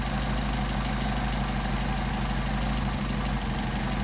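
A Mercedes 190SL engine fitted with Solex 44PHH carburetors idles steadily at close range, a loud, continuous low rumble with an even throb and no talk.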